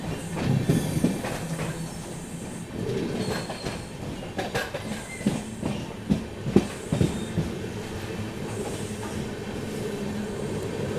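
The 22361 Patna Amrit Bharat Express crawls slowly along the track in heavy rain, giving a continuous close rumble with irregular clacks over rail joints and occasional wheel squeals.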